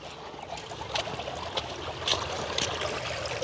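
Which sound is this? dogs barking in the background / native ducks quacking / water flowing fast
water flowing fast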